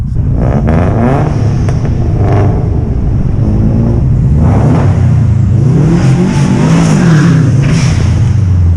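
A Subaru Impreza WRX STI driving in a convoy on the road from Rivington to Blackpool gives a loud, steady engine drone with rising and falling revs across the whole stretch, close and continuous, with no talk.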